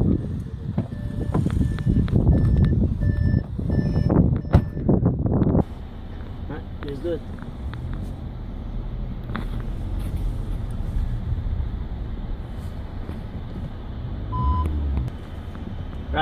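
Audi park assist reversing beeps from a 2015 Audi car backing up, a run of regular electronic beeps over steady engine and road rumble during the first few seconds, followed by quieter cabin noise.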